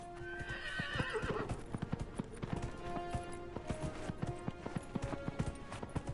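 Galloping horse hooves in the game Dragon Age: Inquisition beat a fast, steady clip-clop rhythm close up throughout, with a whinny early on and faint game ambience beneath.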